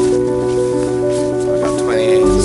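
Rain patters steadily on a plastic poncho worn on a cold, wet day of walking the Camino de Santiago, a close, constant drumming with some humming tones underneath.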